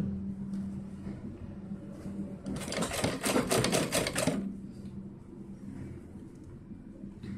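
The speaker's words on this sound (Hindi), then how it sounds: "हम धीरे से यहाँ से सिलाई लगाएंगे" A sewing machine stitches a small summer dress for a Bal Gopal idol, running in one steady, fast rattling burst of about two seconds between quiet stretches.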